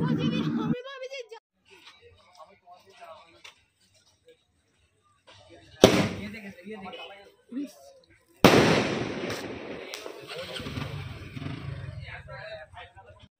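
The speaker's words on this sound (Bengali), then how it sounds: "আর তো খাওয়া শেষে আমরা একটু বাজি ফুটিয়ে নিচ্ছি।" Firecrackers go off after a wedding meal in a few sharp, loud bursts separated by quieter gaps, the last blast followed by crackling and a lingering rumble, with people talking at the start and at the end.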